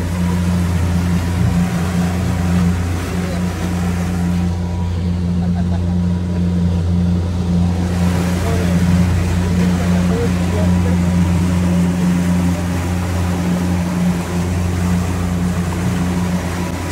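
A speedboat engine drones loud and steady while the boat runs at night through the Sundarbans jungle, a constant low rumble with rushing water noise and no pauses.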